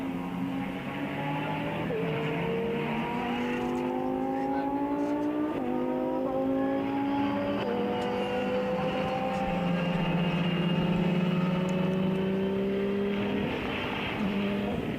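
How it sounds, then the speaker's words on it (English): GT3 and GT4 race cars lapping the Brno circuit during a GT Cup sprint race: several high-revving engines sweep past with rising and falling pitch and gear changes, loud and continuous, overlapping one another. "Mikes in the last lap of the race, and he takes the win in GT4 class"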